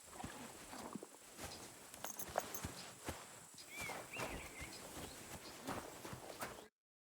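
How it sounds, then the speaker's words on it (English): A grey horse's hooves clip-clop at a walk in the Kingdom Come Deliverance 2 video game, soft irregular thuds at a moderate distance over quiet ambience. "That grey horse you have grazing here is mine."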